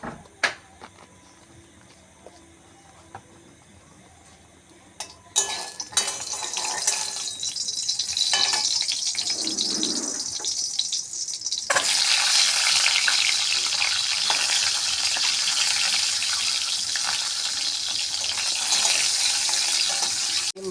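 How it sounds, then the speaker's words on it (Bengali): Eggs frying in a little oil start with a quiet stretch, then burst into loud, close sizzling that swells further partway through and keeps crackling steadily to the end. "অল্প তেল দিয়ে আমি এখন ডিমগুলো ভেজে নেব।"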